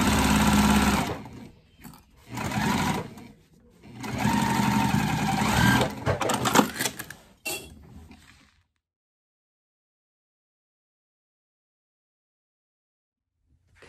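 A sewing machine top stitching the top edges of a Cami crossbody bag, running in loud bursts with short pauses, then stopping into silence.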